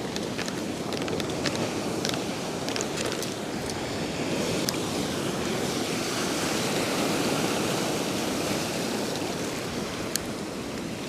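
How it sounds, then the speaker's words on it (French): Waves breaking on a shore at a seaside fishing spot: a continuous, loud wash and roar of surf with a few small sharp clicks over it, and no talk. "Là, on voit tout de suite qu'il y a beaucoup moins de vagues au bord."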